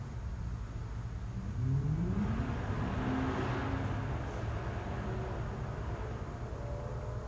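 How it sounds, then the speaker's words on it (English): A car drives by outside a hotel in Tampa, a steady broadband road rumble that swells as it passes and then holds, with a rising engine tone partway through and no voices. "That's a car."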